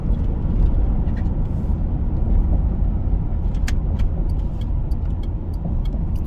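A 2006 Ford F150 pickup with a 4-speed automatic drives along slowly, giving a steady low road and engine rumble heard from inside the cab, with a few light clicks and rattles.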